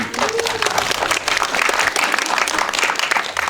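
Dense, continuous audience applause during a post-screening film talk with the director and actors, a full crowd clapping steadily at close range for the whole stretch.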